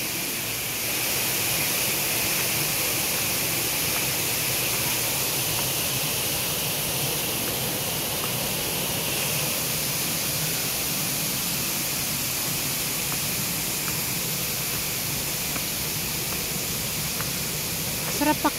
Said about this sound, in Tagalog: Sarap pakinggan yung ano agos ng tubig.